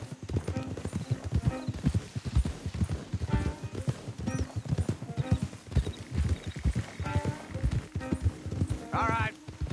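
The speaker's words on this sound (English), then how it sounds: "Don't want the horses clopping around outside the window." Horses' hooves clop along a city street in Red Dead Redemption 2, a steady uneven rhythm of close hoof strikes with a brief whinny near the end, under intermittent talk.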